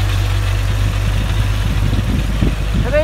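A vehicle engine with loose exhaust pipes idles loud and close in a steady low rumble, with faint irregular rattling over the top and a brief rising tone near the end.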